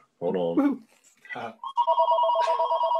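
A telephone ringing in a tattoo workshop, a sustained electronic ring tone that starts after someone speaks briefly and then holds steadily and loudly through the end.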